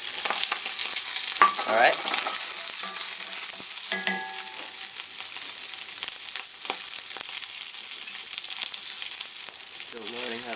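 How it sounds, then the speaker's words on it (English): Onion frying in oil in a pan, a steady broadband sizzle with occasional stirring scrapes and clicks, briefly under a single spoken word near the start. "Alright, and add some onion."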